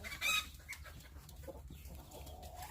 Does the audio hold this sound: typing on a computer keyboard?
no